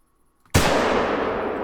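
A single sharp rifle shot rings out at a wild boar in theHunter: Call of the Wild, MullerWald cornfields, its crack leaving a long booming tail that fades slowly, loud and close after a brief quiet.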